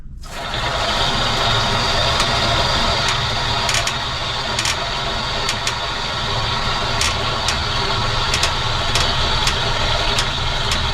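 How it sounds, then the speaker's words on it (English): Belt grinder turned down to low RPM for sharpening a carbon steel knife starts up and hums steadily and loudly, with faint intermittent scraping touches over the drone. "I'm gonna be sharpening the blade up here on this portion of the belt grinder."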